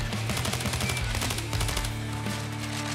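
Rapid automatic gunfire in the heist video game Payday 2, a steady stream of fast rattling shots over a continuous droning game background for about three seconds.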